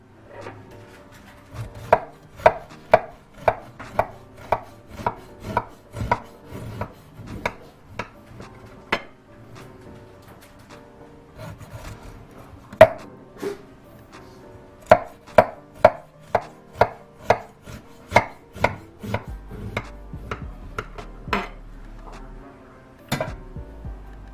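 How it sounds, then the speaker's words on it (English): A knife cuts a slice of lemon pound cake and taps repeatedly on a board or plate, making sharp, close clicks and knocks in uneven runs, with near silence between them. "now we're going to cut a slice and try it"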